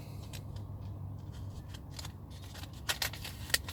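Scissors snip through fishing rig line and tackle material, a few quiet, sharp close cuts near the end over a soft steady background hum.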